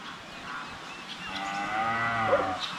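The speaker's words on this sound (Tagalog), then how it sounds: "Si Marimar mga kaprobinsya umiyak kasi pinasol namin si Basya doon" A cow separated from its calf lets out one long, drawn-out moo partway through, fairly close against quiet outdoor background.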